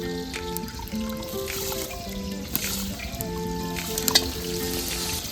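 Pointed gourd slices frying in a pan, a soft steady sizzle with occasional light clinks, partly masked by bright sustained musical tones playing over it.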